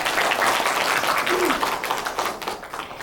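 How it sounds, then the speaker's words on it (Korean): Audience applause at an urban farming activists' conference opening ceremony after a congratulatory speech, a full crowd clapping steadily and tapering off toward the end. "다시 한번 박수 부탁드립니다."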